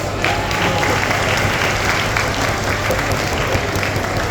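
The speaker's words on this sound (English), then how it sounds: "How about another big round of applause for her?" Sustained applause from a festival audience fills the space, dense and steady throughout with no talk over it.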